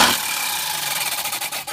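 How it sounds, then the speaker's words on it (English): A power saw cuts steel stock for a trike axle, a harsh, steady high-pitched grinding whine that holds throughout, with faint rhythmic pulsing toward the end. "Alright, time to break out the rig saw."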